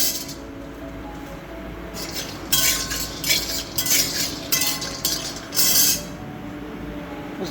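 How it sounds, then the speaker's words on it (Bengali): Nuts being fried and stirred in a wok, with a spoon clinking and scraping against the metal in bursts over a low sizzle, close by and without speech. "এই দেখুন বাদাম দিয়ে দেব, কড়াইতে ভেজে নিচ্ছি।"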